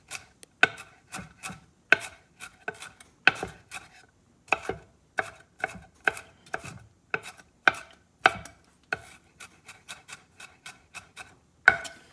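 A knife dices small onions and carrot on a cutting board for roasted tomato garlic basil soup, giving crisp, close chopping taps in quick irregular bursts separated by short pauses, with no talking.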